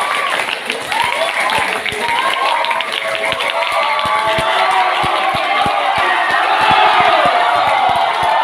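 A group of students at an Islamic boarding school briefing session claps together in a rising, crisp rhythm, sharp individual claps over a busy wash of clapping and murmuring voices.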